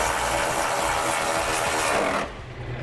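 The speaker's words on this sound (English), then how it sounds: "we'll come back with that 10mm socket and snug up those bolts" A ratchet with a 10mm socket snugs up exhaust hanger bolts during a trailer hitch install on a 2015 Subaru, giving a rapid close-up clicking that runs steadily, then stops abruptly.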